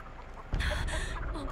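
Chicken clucking inside The Texas Chain Saw Massacre video game, a sudden loud burst of agitated clucks and squawks breaking in after near silence and continuing close by amid game noise.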